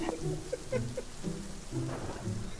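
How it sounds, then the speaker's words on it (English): Rain sound effect with thunder in a podcast: a steady, full hiss of falling rain with low rumbles, while muffled voices carry on underneath. "Why is it raining?"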